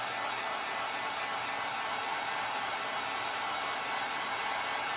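A hair dryer blows steadily on wet paint, a constant close whooshing roar with no pauses or speech.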